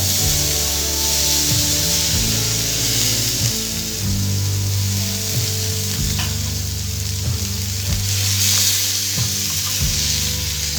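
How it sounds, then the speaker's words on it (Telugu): Tomato pieces frying in the same pan used earlier for curry leaves, a steady loud sizzle with occasional stirring scrapes from a spatula, close up and continuous, no voices. "కరివేపాకు ఫ్రై చేసుకున్న ఇదే ప్యాన్లో టమాటో వేసుకోవాలి."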